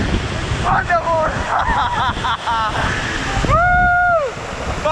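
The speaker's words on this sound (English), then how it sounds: "I am here at the waterfall" A waterfall at Mambo near Freetown, Sierra Leone, gives off a loud, steady roar of rushing water, with a person's excited voice calling out over it.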